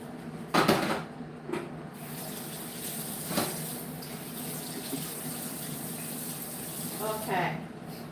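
Small homegrown mini chilies rinsed under a running kitchen tap, with a steady, fairly faint water hiss and a few brief splashes and clatters over about eight seconds, without speech.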